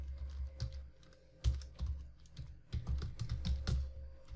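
Code being typed on a computer keyboard while editing a PHP admin page: a steady run of close, crisp key clicks in irregular bursts, with no voices.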